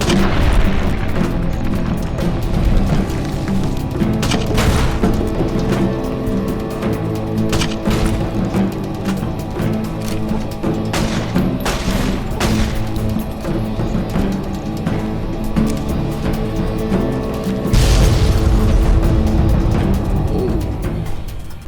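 Gunfire and explosions from the video game Fallout: New Vegas: dense, loud bursts of booms and shots layered over a continuous rumbling battle din, with a heavy blast near the end.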